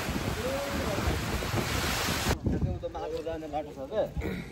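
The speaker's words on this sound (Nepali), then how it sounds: "हावा आयो" Strong wind buffets the microphone with a broad roar, then drops abruptly halfway, leaving quieter outdoor ambience with voices talking.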